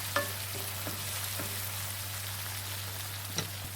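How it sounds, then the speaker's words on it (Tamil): Ginger and garlic sizzle in hot oil for a village-style dried anchovy thokku, a faint, steady crackling hiss broken by a few soft stirring clicks, with no voices. "இப்போ இந்த எண்ணெய் இருக்கும்போதே வந்து பார்த்தீங்கன்னா இஞ்சி பூண்டை போட்டுக்காங்க"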